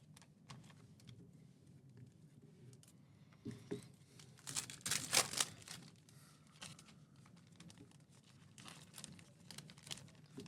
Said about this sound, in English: And Louis with another pack